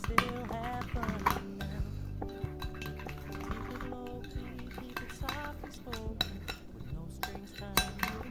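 Homemade pizza ingredients seasoned with pepper and herbes de Provence are stirred together with a utensil in a bowl, giving repeated close clinks and scrapes over soft background music.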